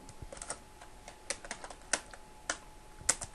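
Close, quiet computer keyboard typing, a run of irregular individual keystroke clicks with short pauses and no talking.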